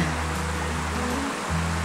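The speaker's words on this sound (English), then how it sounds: "Now with the water running over red" Water rushes over red volcanic stones near a waterfall in Iceland, a steady, close broadband roar of flowing water with a low hum underneath.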